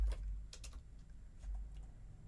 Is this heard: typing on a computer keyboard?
yes